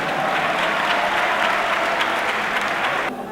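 A crowd at a political movement meeting applauds its president with dense, steady clapping that fills the room, then cuts off abruptly.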